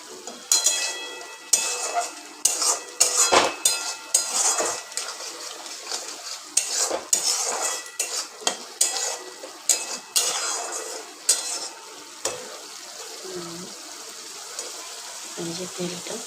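Pots, utensils and stirring clatter in a kitchen as paneer masala cooks in hot oil, with a soft frying sizzle underneath and repeated sharp scraping knocks of a spoon against the pan.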